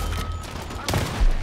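A loud blast and burst of gunfire crackle from the Dirty Bomb video game, dense and continuous with a sharper impact near the end.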